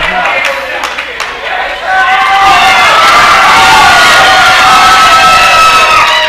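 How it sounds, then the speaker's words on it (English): A wrestling crowd at an Anarchy Wrestling event in Cornelia cheers and shouts, swelling from a steady roar into a louder, sustained wall of whoops and yells that fills the space. "this crowd, they're getting louder and louder by the moment"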